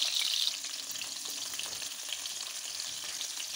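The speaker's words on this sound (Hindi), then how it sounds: "और इसको हिलाते रहेंगे, थोड़ा हिलाते रहेंगे बार बार।" Amla pickle fries in a pan while it is stirred, giving a soft, steady sizzle with a brighter crackle at the start and no voices.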